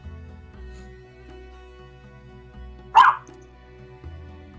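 A dog gives a single sharp, loud bark-like yelp amid a tabletop game session, over a quiet bed of low hum and faint background sounds.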